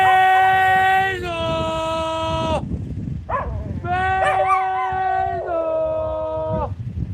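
A person howls in long, wavering tones to call a dog on a snowy day, the voice imitating a dog's howl in several drawn-out bursts with brief pauses between them, loud and close.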